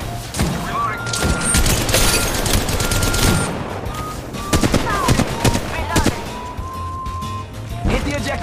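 Rapid automatic gunfire bursts and heavy booms from Apex Legends Mobile play loud and close, with repeated volleys and thuds over a busy battle backdrop while a voice speaks briefly.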